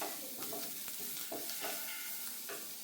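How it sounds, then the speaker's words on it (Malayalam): Spice powders and garam masala sizzling and being stirred in a hot pan, a steady close frying hiss with scraping stir strokes throughout, no voices. "ഇത്ര ഇട്ടതിന് ശേഷം നമുക്ക് നന്നായിട്ടൊന്ന് വഴറ്റാം"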